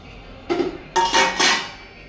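Batter with turmeric stirred in a metal pot for steamed, fried alu vadi: a soft scrape, then a series of louder clinking, scraping strokes of a spoon against the pot, close and without speech.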